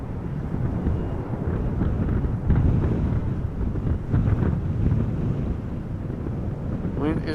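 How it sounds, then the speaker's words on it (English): Steady wind buffeting a microphone outdoors at Amsterdam Schiphol Airport, a continuous low rumbling roar filling the whole clip with gusty swells, loud and close, with a brief rising tone near the end. "Wind is really interfering today."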